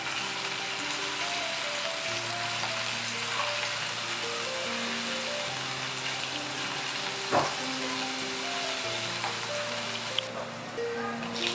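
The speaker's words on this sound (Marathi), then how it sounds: "आता हे परतवून घ्यायचं आहे" Finely chopped garlic sizzles softly in a pan as the base for a vegetable soup, a steady low frying hiss with a couple of faint stirring knocks.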